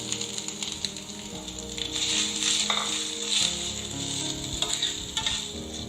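Grated coconut fries in hot ghee in a pan for a sweet paniyaram, giving a close, continuous crackling sizzle with faint stirring sounds and no talk.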